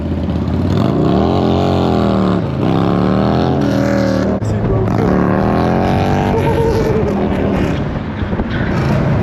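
A BMW 335i engine revs hard up close, its pitch sweeping up and falling back in several loud, sustained pulls that fill the whole stretch.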